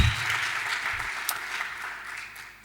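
Audience applause, a brief burst of many hands clapping that starts full and gradually thins out over a couple of seconds, with a low rumble from the room beneath it.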